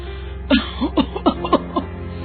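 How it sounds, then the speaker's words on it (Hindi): A run of about six short, harsh coughs in quick succession, close and fairly loud, with brief pauses between them. "ये खांसी तो जा ही नहीं रही है।"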